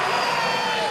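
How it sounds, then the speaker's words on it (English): Darts crowd at the Masters semi-final, a continuous murmuring buzz of many voices filling a large hall, with a commentator's voice over it. "The crowd are starting to buzz a bit now."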